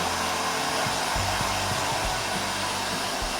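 A hair dryer drying a cat's fur after a bath blows in a steady, loud, continuous whoosh with a low hum underneath, close by and uninterrupted.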